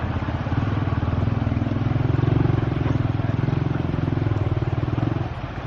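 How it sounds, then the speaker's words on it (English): A Massey Ferguson 290 tractor engine runs close by beside a river, a loud, steady diesel chug with a fast, even pulsing rhythm that holds throughout. "Wow, big tractor."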